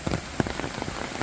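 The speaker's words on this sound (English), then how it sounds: "Well, we need a little rain." Rain patters steadily on a hard surface nearby ahead of Hurricane Helene in Grovetown, Georgia, with scattered louder drops landing irregularly throughout.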